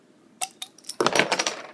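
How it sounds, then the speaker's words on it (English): A bottle of Bear Republic Racer 5 IPA, a 7% ABV beer, is opened with a few sharp metallic clicks of the cap, then a brief rattling burst as it comes free, close and fairly quiet. "So let's get it open."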